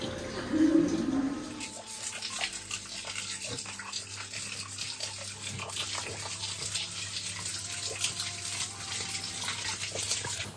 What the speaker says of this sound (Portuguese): a água que segue correndo pela caverna